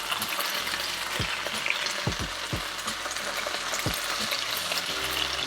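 Vegetables tossed into a hot pan of stir-frying beef for Thai drunken noodles, a loud continuous sizzle with several sharp knocks of a spatula against the pan, no voices.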